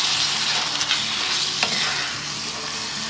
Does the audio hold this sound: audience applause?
no